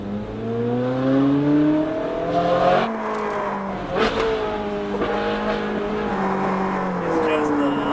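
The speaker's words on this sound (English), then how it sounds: "So we put it in a race and then we floor it." A Ferrari 458 Speciale with a 600 hp V8 accelerates hard at full throttle, its engine note climbing through the gears in repeated sweeping rises with brief shift breaks, loud and close from the cabin while people talk over it.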